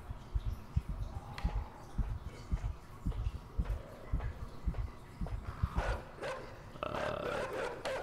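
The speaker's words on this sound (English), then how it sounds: "The dog's gonna sniff me out." A dog in the video game Inside sniffs and snuffles in short bursts, followed by a few gruff barks near the end, fairly close and moderately loud.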